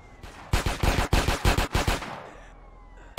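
Rocket launcher fire in Grand Theft Auto: San Andreas, heard as a rapid burst of loud, sharp blasts in a tight series lasting about a second and a half, followed by a fading rumble and quiet tail.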